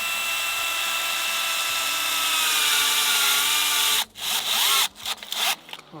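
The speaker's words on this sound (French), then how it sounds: "avec une petite vis, on vient tout simplement visser le profilé dans son connecteur" A power screwdriver whines steadily while driving a small screw into a solar panel rail connector, then stops and gives a few short bursts and clicks.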